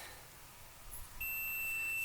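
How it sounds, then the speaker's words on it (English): An ohm meter's continuity beep sounds as its probes test a water temperature gauge wire on a 1973 Corvette Stingray: a single thin, steady electronic tone starts partway through and holds, faint, over a quiet background. "So you hear that little beep? That means our ohms wire is good."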